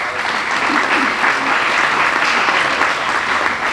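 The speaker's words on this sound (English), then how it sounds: "Give yourself a round of applause." Steady, dense applause from an audience at a county environmental awards ceremony, sustained and fairly loud throughout with no speech over it.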